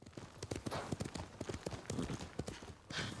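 Horse hooves clip-clopping in the video game Ghost of Tsushima, a steady, close, rhythmic trot of hoofbeats continuing throughout, moderately loud, with a brief whoosh near the end.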